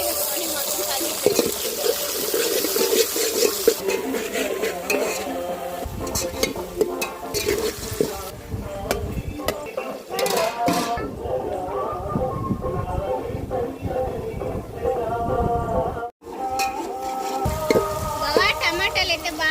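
Chopped chillies, whole pulao spices and cut tomatoes sizzle in a hot pan while being stirred and mixed, a continuous close crackle broken by scraping and clattering of the spoon against the pan, with no voices.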